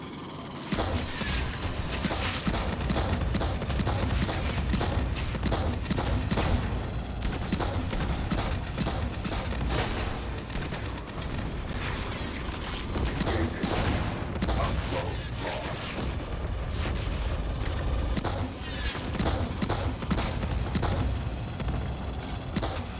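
Steady chattering gunfire from pop-up sentry guns in Aliens Fireteam Elite, a dense rattle of rapid shots and mechanical clatter that runs nearly continuously and stays fairly loud throughout.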